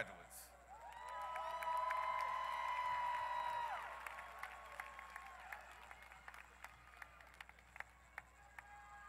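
Crowd applause and cheering for graduates at a Southern University at Shreveport commencement, swelling with whoops and shouts before settling into scattered claps.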